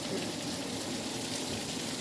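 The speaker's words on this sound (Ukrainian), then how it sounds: "Дивіться, дощ стіною" Heavy rain pours down in a dense, steady hiss, an even wall of falling water with no pauses and no voices over it.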